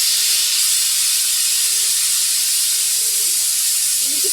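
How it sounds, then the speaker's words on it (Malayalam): A pressure cooker vents steam in a loud, continuous, close hiss, steady and unbroken from start to end with no voices. "എനിക്ക് പേടിയാണ് കേട്ടോ വിസിലടിച്ച് കുക്കറിൻ്റെ"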